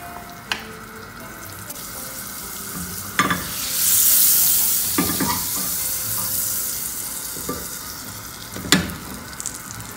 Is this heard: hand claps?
no